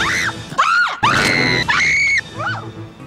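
A woman, an actress's character in a Batman film, lets out a run of loud, shrill screams, several rising and falling cries in close succession with short breaks and no other voices.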